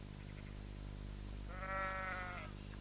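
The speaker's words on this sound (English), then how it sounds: "And there are some sheep in here as well." A single sheep with a brown face bleats once, loud and wavering for about a second, inside a cave, with a steady low hum beneath and no talk.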